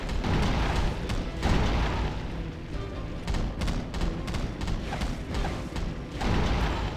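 A fire vortex attack in the Fantastic Four (2005) video game gives a dense, continuous roaring rumble with repeated booming thumps, loud and sustained throughout.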